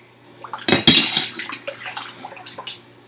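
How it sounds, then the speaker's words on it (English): Raw beef or steak being washed by hand in salted water with lemon juice, a run of wet splashing and sloshing with clinks of a bowl, loudest early then settling into softer swishes. "Again, in a massaging motion, we wash. Don't be afraid to wash the meat"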